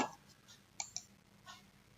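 Two quick, sharp mouse clicks sound close together near the middle, alone and crisp, with a few faint softer clicks around them while software buttons are pressed.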